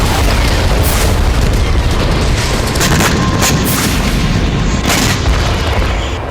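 Heavy artillery shelling in a Ukrainian counter-attack, a dense barrage of loud booms and blasts crowding one another in near-continuous succession, with sharper individual impacts standing out from the roar.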